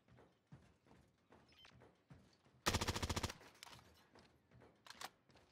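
Gunfire in the video game Warzone: a tight, loud burst of rapid automatic shots lasting under a second, with a few fainter single shots around it and no talking.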